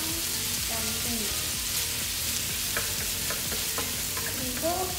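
Onion and meat fry in olive oil with a dense, continuous sizzle close by, punctuated by a few soft scraping stirs and faint clinks; a voice murmurs briefly underneath.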